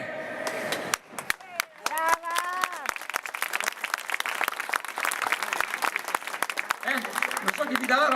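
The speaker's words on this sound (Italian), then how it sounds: "tutti loro ti faranno un grandissimo applauso" An audience at an Italian stage magic show breaks into applause. The dense clapping runs under a performer's voice that speaks over the start, and the clapping continues fairly loud to the end.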